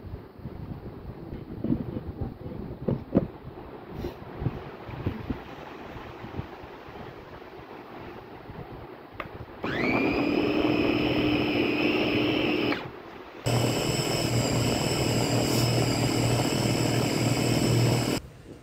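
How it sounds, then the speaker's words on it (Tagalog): An electric food processor whirs loudly as it grates carrots, starting after a stretch of handling noise with a steady motor drone, a brief pause, then a second continuous run that carries to the end. "Doon ko grenade yung ating carrots. Ayan. Then guys, cover na natin yung ating food processor."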